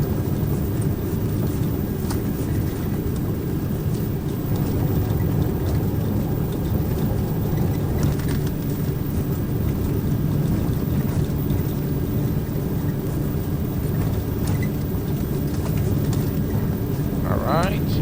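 Turboprop engines of a Carenado King Air C90 GTX in the Prepar3D simulator, a steady loud low-pitched drone and whine running without break through the takeoff roll, with a voice talking over it.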